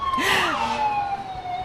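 A Cortez Fire and Rescue fire engine in an evening Parade of Lights sounds its siren, a loud rising-and-falling wail with a horn-like blast at the start, close by and fading slightly toward the end.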